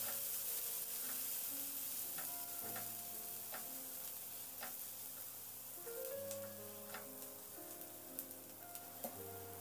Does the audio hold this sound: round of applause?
no